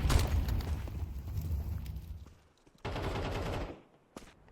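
Automatic UMP fire in a competitive multiplayer shooter match, a loud sustained burst of rapid shots lasting about two seconds, then a brief pause and a second long burst, with a single sharp shot near the end.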